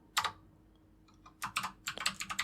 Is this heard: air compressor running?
no